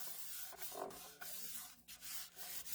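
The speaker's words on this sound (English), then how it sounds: "I'm going to burnish here on the back so I don't move all my layers" Layered cardstock and paper being burnished on the back during a card-making project, heard as a steady close rubbing and scraping that swells and pauses in short strokes, with no talking.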